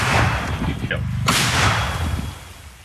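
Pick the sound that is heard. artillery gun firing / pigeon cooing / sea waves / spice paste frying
artillery gun firing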